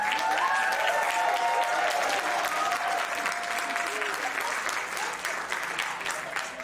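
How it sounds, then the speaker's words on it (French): An audience at the UQO en spectacle 2019 red-carpet show gives sustained, even applause that swells at the start and eases slightly toward the end, with a few faint cheers. "je pense qu'on peut donner une bonne main d'applaudissement"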